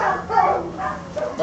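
A dog whimpers and moans in drawn-out, wavering cries rather than barks, close and fairly loud across a couple of short phrases.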